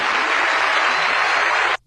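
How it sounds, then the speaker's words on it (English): A television studio audience on the game show Deal or No Deal cheers and applauds loudly in a dense, continuous roar that cuts off abruptly after under two seconds. "the crowd is cheering way too much for President Bush"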